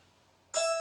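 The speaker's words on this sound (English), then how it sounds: "sorry, my Ring doorbell's going off." A Ring doorbell chime sounds indoors, a bright electronic tone that starts abruptly after a moment of near silence and rings on steadily to the end.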